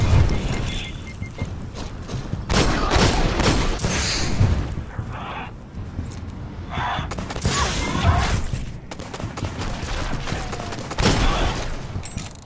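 Heavy weapon fire from a Cabal Colossus enemy in the Destiny video game, repeated bursts of loud booming shots and mechanical clanks coming in waves over about twelve seconds, with little talk.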